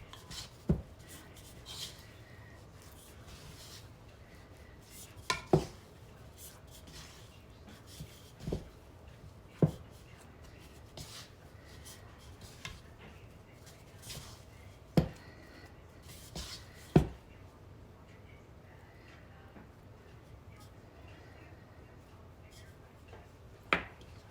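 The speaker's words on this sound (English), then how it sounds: "You're just going to keep turning it until you see that all your flour's mixed in." Bread dough made with bread flour is turned and mixed by hand in a bowl, giving soft intermittent rubbing and scraping with occasional sharper knocks against the bowl, fairly quiet.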